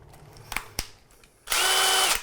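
Cordless drill spinning at middle speed for under a second, steady and fairly loud, after a few quiet clicks and taps.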